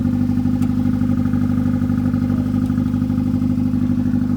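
A big-turbo Honda Accord F23 engine idles smoothly and steadily, a close, continuous low rumble with a faint mechanical clatter and no popping or misfire, and no talking over it.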